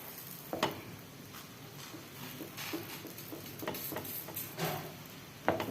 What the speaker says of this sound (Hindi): अब हमने तवे के ऊपर हल्का सा घी लगाना है